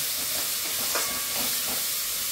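Spice paste sautéing in a spoonful of ghee in a pan for vegetarian sago khichuri, a steady broadband hiss and sizzle held at an even level throughout, close and continuous with no talk.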